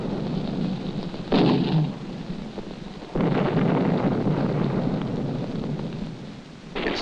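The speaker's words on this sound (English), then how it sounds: "Its valleys thunder with artillery." Artillery fire thunders across valleys in Vietnam, heard as deep, rumbling booms rolling in at a distance, with several heavy swells over a continuous low roar.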